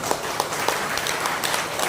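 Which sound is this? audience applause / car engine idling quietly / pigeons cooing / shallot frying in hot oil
audience applause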